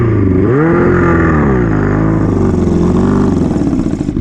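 A Yamaha Fazer 600 motorcycle engine revs up and holds at a loud, close, throaty roar, pitch rising then settling into a steady rumble.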